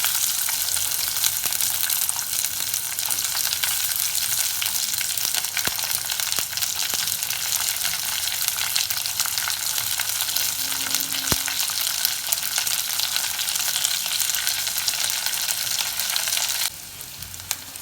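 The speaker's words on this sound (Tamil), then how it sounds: "கருவேப்பிலை இதுக்குள்ளேயே வந்து வெங்காயம் போட்டு வதக்கணும்" Onion and curry leaves sauté in a pan for plantain shoot sambar, giving a steady, close, loud frying sizzle that runs throughout, with a brief soft clink near the end and no talking.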